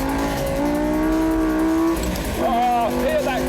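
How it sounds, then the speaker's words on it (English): A Lamborghini Gallardo Spyder engine rises in a loud, sustained rev with a rising tonal whine, then a quick shift and another climbing crescendo, heard from close by. "Oh, hear that crescendo rev."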